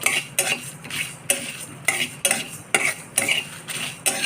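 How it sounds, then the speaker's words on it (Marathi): Whole chillies, cloves and peppercorns dry-roast in a pan while a utensil stirs them, giving regular scraping strokes and rattles about twice a second, close and fairly loud, with no talking. "टाका मिरची, लवंग आणि मिरे हे पण मसाले भाजून घ्यायचे"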